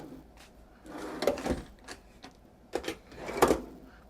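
Wooden drawers in a 2002 Prevost Featherlite bus conversion slide and knock shut a few times, with soft rumbling glides and sharper bumps at irregular intervals, close by.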